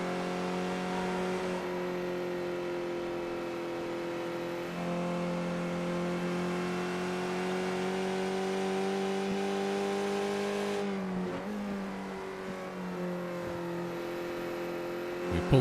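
Race cars lap Watkins Glen International in a racing video game, a loud steady engine drone with sustained high revs, pitch shifting slightly as gears change near the end, no talking over it.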